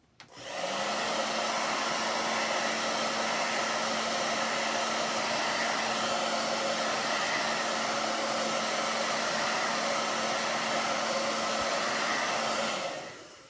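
A hair dryer blows steadily to dry chalk paste on a stencil, one continuous loud whooshing hum with a low steady tone, starting and cutting off cleanly, with no talking.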